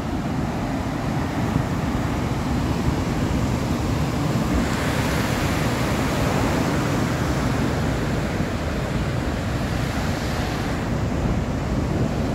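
Sea waves break and wash continuously onto the sandy shore at Vila do Conde, Portugal, a steady, loud roar with wind buffeting the microphone and no voices.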